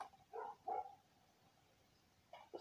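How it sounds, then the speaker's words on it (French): Dogs bark outdoors in a few short, faint, distant yaps, two close together, then a pause and another pair. "Mais ça aboie dehors, ça aboie. Ça aboie beaucoup trop."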